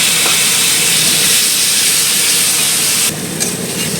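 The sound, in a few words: water added to frying potatoes and spices in pan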